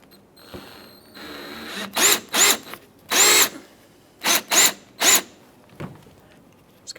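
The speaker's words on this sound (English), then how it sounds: "just go ahead and drill out the center and remove the outer portion as well" Short bursts of drilling through plastic rivets on a Jeep Grand Cherokee front bumper cover, six loud whines of a few seconds or less, separated by pauses, close and with no talk over them.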